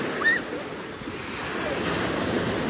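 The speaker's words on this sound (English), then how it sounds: "Huge waves today on the sea." Huge waves rolling on the open sea, a loud, constant roar of surf mixed with wind buffeting the microphone, with a brief high squeak early on.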